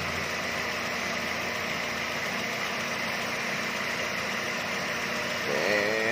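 Chevrolet Aveo engine idling with a weak idle control valve, a steady low hum and vibration that wavers near the end as the revs dip.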